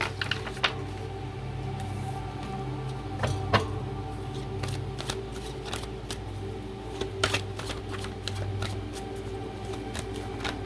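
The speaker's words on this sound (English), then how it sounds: "So I'm going to go ahead and collect more cards" Tarot cards are shuffled and gathered up close by hand, giving soft repeated riffling and flicking snaps over a steady low background hum, with scattered sharper card clicks and no voices.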